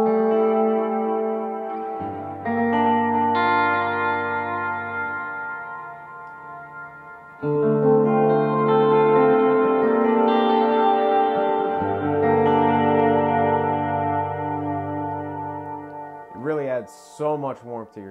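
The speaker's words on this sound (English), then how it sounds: "We also have a spring reverb built in, so we can sort of double up the effects here." Electric guitar notes played through a Strymon Volante tape echo with its built-in spring reverb ring out heavily drenched in echo and reverb, with repeating, decaying tails that smear each chord into the next.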